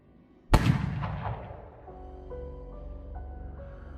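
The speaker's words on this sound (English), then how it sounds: "As the two of you head for the door, a gunshot rings out." A single loud gunshot sound effect in a Call of Cthulhu tabletop game cracks out sharply and rings into a long decaying echo, then gives way to soft sustained musical tones.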